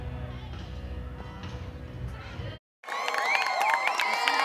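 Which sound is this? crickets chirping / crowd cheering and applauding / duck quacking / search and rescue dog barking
crowd cheering and applauding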